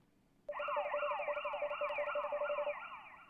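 A police siren wails in a night scene of a detective video game, starting abruptly and holding a loud, steady, rapidly warbling tone for almost three seconds with no voices.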